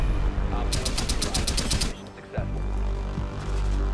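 Automatic gunfire in Rainbow Six Siege, a quick burst of roughly ten sharp, evenly spaced shots, loud and close, followed by a lull with a couple of softer thuds.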